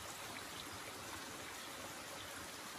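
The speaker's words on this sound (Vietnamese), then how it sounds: "Ở trên này có nguồn nước đây các bạn" A forest stream flows in old-growth woodland, giving a faint, steady, hissing rush of water throughout with no voices.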